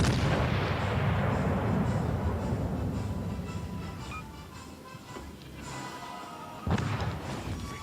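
Warship turret guns fire in the naval video game World of Warships: Legends. Heavy booms roll out and decay over several seconds, followed by another sharp blast near the end. The sound is loud and close, with no talking.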